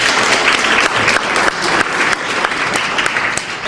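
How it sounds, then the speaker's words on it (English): Sustained, loud applause from a large audience at the SOBCTA 2010 education conference, dense and steady throughout with no talk over it. "Let's give her some applause as well."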